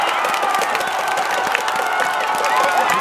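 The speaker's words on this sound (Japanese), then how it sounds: "大きな拍手が受けます" A crowd at a high school baseball game in a summer Koshien regional final breaks into steady, loud applause and cheering, a dense continuous wash of clapping across the whole moment.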